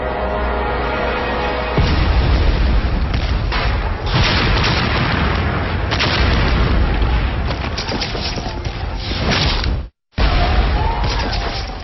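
Heavy artillery bombardment and gunfire in the September 1776 assault on New York: dense, continuous rumbling booms and bursts, loud and close, with a brief total dropout near the end.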